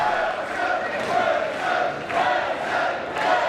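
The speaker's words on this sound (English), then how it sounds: "Crowd firing up." Spectators at a Pandemonium III MMA bout roar and shout in loud, continuous waves, the cheering rising and dipping roughly every second with no clear single voice.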